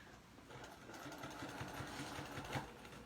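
A sewing machine back tacks on a snap bag, giving a quiet, close mechanical hum with a soft pulsing stitch rhythm.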